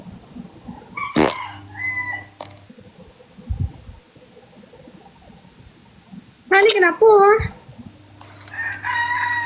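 A rooster crows in two loud bursts, the second longer and wavering, separated by stretches of Malay speech and laughter from people close by.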